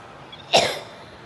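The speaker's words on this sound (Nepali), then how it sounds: "सरी मलाई अलिक खोकी लागिरहेछ।" A woman gives a single short, sharp cough, close and fairly loud, with a quiet room behind it and no talking.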